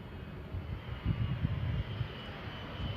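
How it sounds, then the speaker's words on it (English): Aircraft engine roar from a plane descending at high speed toward a belly-up crash landing on a runway with no gear and full flaps, a steady broad rumble swelling slightly mid-clip, no talk. "The footage shows the plane descending at high speed before crash landing back on the runway"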